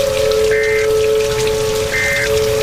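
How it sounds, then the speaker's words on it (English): Constant pouring rain during a severe thunderstorm with tornado warnings in St. Louis, Missouri, in June 2014 hisses loudly and evenly, with a steady tone and two brief whistling notes above it. "but there's just constant rain."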